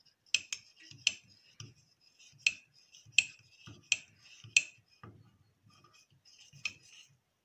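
A spoon clinks and taps rapidly against a mug while mug cake batter with sugar is mixed, bright little clicks coming in quick irregular bursts, close and fairly quiet.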